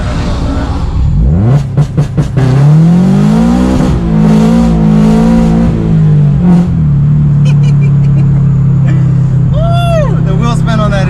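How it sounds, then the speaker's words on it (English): A supercharged Subaru BRZ launches hard with wheelspin, the engine rising sharply to a loud sustained high-rev howl up close, then easing off with a few shifts and blips while people talk over it. "The wheel spin on that is crazy."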